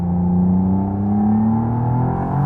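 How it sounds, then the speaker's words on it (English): The new V6 of a McLaren Artura plug-in hybrid supercar in sport mode climbs steadily in pitch as it accelerates, a smooth, close, continuous engine note with no talking over it. "let us move into sport mode and hear this new V6."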